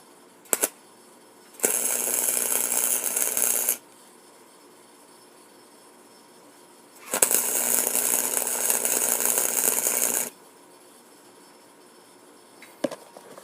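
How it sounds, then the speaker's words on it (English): Welder tack-welding thick metal at its maximum setting while building a short shifter: two sustained, harsh buzzing crackles of about two and three seconds, close and steady, separated by near-silence with a few faint clicks. "Turn on our welder, it's on max, we got some thick metal."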